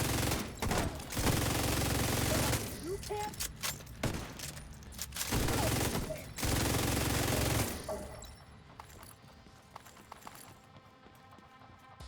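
Long, heavy bursts of LMG machine gun fire in The Division 2, close and loud, coming in several sustained volleys separated by short pauses before fading to quieter scattered shots.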